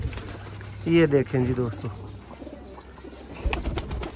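Pigeons coo at a Sialkot pigeon setup, a couple of close, loud coo phrases near the start, followed by scattered bird noise and someone talking.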